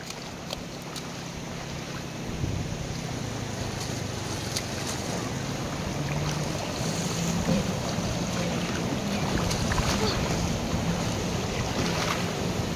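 Sea waves wash ashore at the seaside in a continuous broad rushing roar, swelling slightly louder over time, with wind buffeting the microphone.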